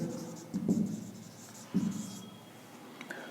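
Marker or chalk writing on a classroom board, two short scratchy strokes with a quiet pause between them, close and fairly soft.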